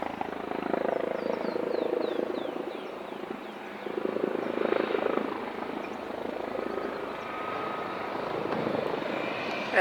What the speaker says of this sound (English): there's a helicopter flying really low